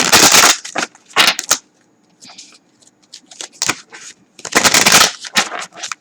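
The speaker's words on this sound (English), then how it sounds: "shuffle one more time." Tarot cards being shuffled by hand, in several quick bursts of riffling and snapping separated by short pauses, close and loud.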